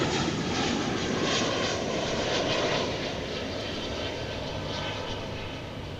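An American Airlines flight from Tucson, Arizona touches down at DFW Airport, a loud, broad engine roar that swells early and then eases slightly as the airliner rolls out, steady and alone with no voices.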